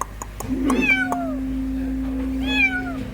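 A kitten trapped in a car's engine bay meows a few times, high and thin, close by, with a steady low hum underneath.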